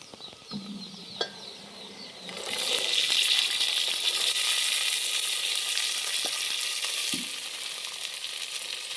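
Fresh black ghevda beans go into a pan of well-fried onion, a few clinks and scrapes giving way to a sudden loud, steady sizzle that holds and then eases slightly, close and unaccompanied by speech.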